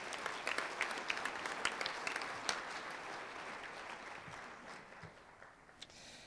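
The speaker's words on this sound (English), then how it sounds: "Let's give everybody a round of applause, please." At an annual meeting, the audience claps in a brisk round of applause that thins out and dies away after a few seconds, leaving a few scattered claps in a quiet room.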